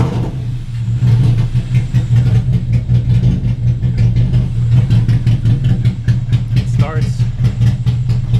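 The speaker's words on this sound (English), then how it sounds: "Starts a little rough on the idle." A Toyota Celica ST202 SS-III engine, 1998-99 spec, idles roughly just after starting under restoration, with a steady low drone that holds close and loud throughout.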